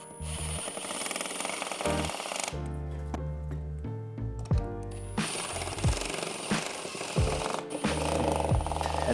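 A power driver running screws into a van roof to fix a solar panel mount, a loud buzzing whir in several bursts with pauses between them, up close.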